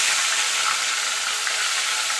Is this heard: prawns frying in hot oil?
yes